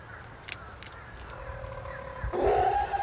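Farm hens in their coop giving scattered clucks and squawks, with a louder, drawn-out call near the end against quiet background rustle.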